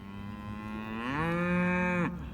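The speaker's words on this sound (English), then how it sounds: "This is my new Moo Cow." A cow gives one long, loud, close moo that rises and holds steady for about a second before cutting off, heard alone with no talking.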